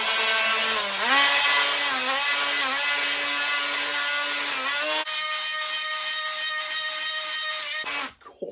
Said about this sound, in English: Let's try the triangle sander. 60 grit. Let's take that edge off